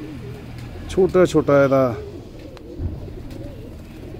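Red-eyed pigeons coo softly and low behind someone talking close by, with a few brief louder bursts of sound in the middle.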